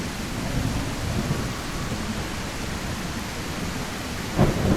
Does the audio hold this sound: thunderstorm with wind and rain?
yes